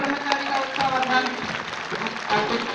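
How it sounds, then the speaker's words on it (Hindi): An audience at a gurukul performance applauds in a short, loud burst of clapping from a crowd, steady and dense. "तालियों से ब्रह्मचारी का उत्साहवर्धन"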